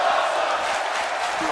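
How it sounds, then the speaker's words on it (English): A crowd chants and roars at a wrestling pay-per-view event in the WWE 2K18 video game, a dense, steady wash of massed voices at moderate loudness. "the crowd chanting"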